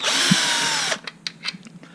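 A power drill whines steadily for about a second while backing screws out of the bottom of a Terrain/Ryder tri gearbox, then stops, leaving light clicks and handling noises close by.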